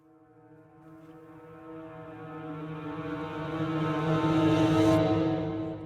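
Heavily processed piano from a horror sample pack, played in reverse as a riser: a droning, harmonic swell that builds steadily in loudness and brightness over several seconds before tapering at the end.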